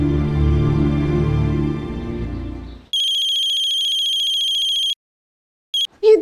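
A telephone rings with a steady electronic tone that repeats in long bursts, following a stretch of music that cuts off abruptly.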